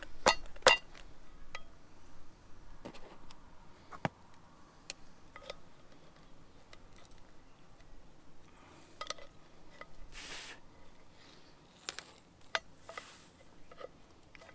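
Scattered light metallic taps and clinks come from work on an electric trailer brake assembly, sharp and irregular over a quiet background, some spaced seconds apart, others in small clusters.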